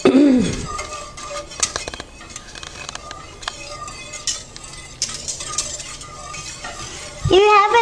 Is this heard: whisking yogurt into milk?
yes